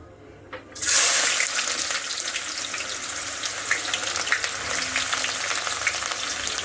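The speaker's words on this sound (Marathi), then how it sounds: "आता ह्याच्यामध्ये आपण टाकूया पहिला कांदा" Onion dropped into hot oil in a pot for prawn pulao: quiet at first, then a sudden loud burst of sizzling that settles into a steady crackling fry, close by.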